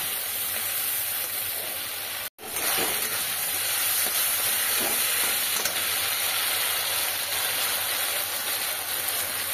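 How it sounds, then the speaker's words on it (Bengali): Fish curry made with poppy seed and mustard paste cooking in a pan with a little water added, giving a steady loud sizzle and hiss that runs for nearly ten seconds, broken once by a brief silence. "সামান্য জল দিয়ে আর একটু কষিয়ে নেব"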